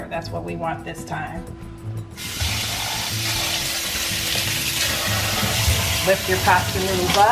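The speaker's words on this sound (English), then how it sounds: "And then to stop the cooking process, turn on that cold water." Cold tap water gushes steadily over drained, cooked pasta noodles in a kitchen sink for a lo mein dish, a loud continuous splashing that starts abruptly while a person talks over it.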